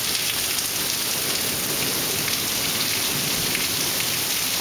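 Heavy rain pours steadily during a thunderstorm on a residential street, a dense, loud, unbroken hiss of drops hitting surfaces with no voices present.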